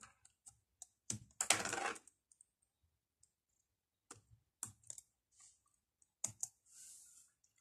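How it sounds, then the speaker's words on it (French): Quick key presses on a computer keyboard while a password is typed, sparse clicks in short bursts with pauses between, close and fairly quiet. "Ici, je vais taper mon mot de passe rapidement."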